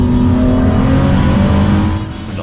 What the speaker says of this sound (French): le V6 monte dans les tours avec une vivacité très réjouissante